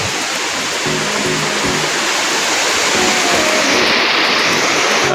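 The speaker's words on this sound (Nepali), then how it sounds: "अनि खोला माथिबाट बगिरहेछ है" A river rushes beneath a bridge on a mountain trek route, its steady broadband roar filling the scene continuously and loudly, with wind adding to the wash.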